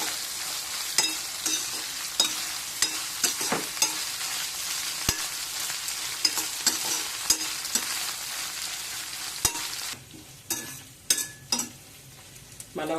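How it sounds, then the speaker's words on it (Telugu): Gongura leaves and dried fish curry sizzle and fry steadily in hot oil, with occasional sharp stirring clicks from a utensil, then the frying drops back as stirring scrapes and knocks take over near the end. "చక్కగా నూనెలో బాగా వేగనివ్వాలి అన్నమాట"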